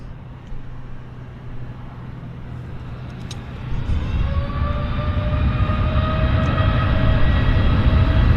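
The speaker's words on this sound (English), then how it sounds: "I'm going to do the Air Canada just because it's departing right now." An Air Canada airliner rolls down runway 26 left at Vancouver airport on its takeoff roll, a heavy low rumble building steadily with rising engine whine, heard from a distance and continuous with no voices.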